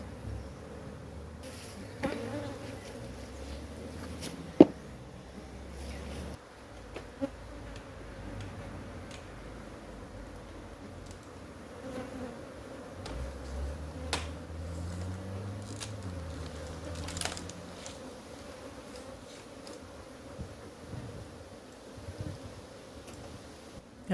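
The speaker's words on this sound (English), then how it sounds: "Look at the amount of bees that are there" Many honey bees buzz around an open hive during a swarm-prevention check, a faint, continuous low hum with occasional soft knocks and clicks of hive handling, no voices.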